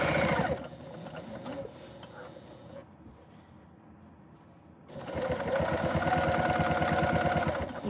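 A sewing machine stitches down the gusset side of a tote bag, running steadily at the start, easing into a quieter stretch, then picking up again loud and rhythmic for the last few seconds.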